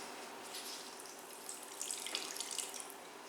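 Water squeezed by hand from grated zucchini wrapped in a towel over a kitchen sink, a faint close trickle and patter of dripping liquid that grows slightly heavier toward the end.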